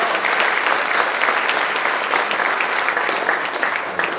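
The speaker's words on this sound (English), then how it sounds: "let's have a big round of applause to the incredible staff at Southwestern College" A crowd at a student award ceremony applauds the college staff in a steady, full round of clapping that holds level from start to finish, with faint voices beneath.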